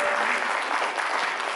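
Enthusiastic concert audience applause at a Slavic Literature Day celebration, a dense, steady wash of clapping that holds at an even, moderately loud level for its whole short length with no voices over it.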